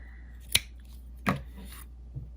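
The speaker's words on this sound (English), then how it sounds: "now that we've made our 50-inch chain, we are going to cut our yarn" Scissors cut crochet yarn in a few crisp snips spaced apart, close and quiet against a near-silent room, with no one speaking.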